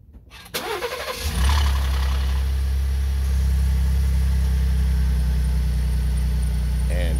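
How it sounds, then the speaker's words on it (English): A 2018 Lincoln Navigator with the 3.5 EcoBoost engine cold-starts with a short crank, then the engine catches and settles into a loud, steady idle carrying a rattle, close and without talk. "And you just heard the cold start rattle"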